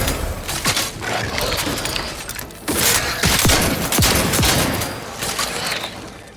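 Triple-barreled shotgun blasts in the Outer Worlds 2 shooter, several sharp loud shots amid busy combat noise, with clattering mechanical sounds and the boom of gunfire layered over a dense, chaotic battle.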